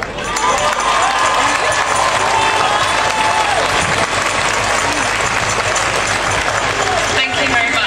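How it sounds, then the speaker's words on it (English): A crowd at an animal rights march in London breaks into loud applause. The clapping is dense and sustained, with faint outdoor crowd noise and scattered voices beneath it. "Warm round of applause for me"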